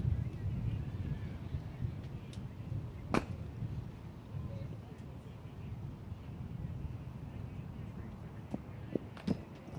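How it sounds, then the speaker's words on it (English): Gusty wind buffets an outdoor microphone at a cricket ground during a Division 1 match between Pembroke and Malahide, a steady low rumble with a few sharp knocks and thumps scattered through it. "It is a bit windy, all right."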